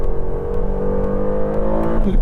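A 2025 Aston Martin Vantage drives on a race circuit in Spain, its engine giving a loud, steady, close drone that climbs sharply in pitch as it accelerates near the end.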